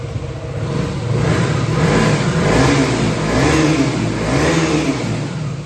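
A 2012 KTM Duke 125 motorcycle engine revs up and down in three or four steady swells, loud and close, with no talking over it.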